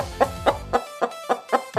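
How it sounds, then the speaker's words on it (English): A chicken clucks in a quick run of about seven sharp, evenly spaced clucks, close and clear with no other sounds. "What animal is it? It's a chicken."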